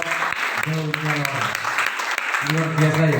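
Audience clapping at a herbal moringa leaf business proposal presentation, steady applause running beneath a man's speech throughout.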